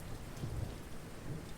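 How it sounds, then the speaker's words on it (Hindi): Light monsoon rain falls at night, a faint, steady soft patter with a low murmur beneath it and no voices. "बारिश हल्की हो गई थी।"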